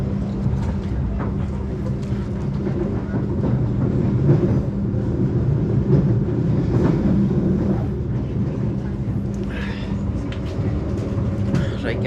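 Steady low rumble and rattle of a train rolling along the tracks in Indonesia, heard from on board, continuous and fairly loud, with faint clatter throughout.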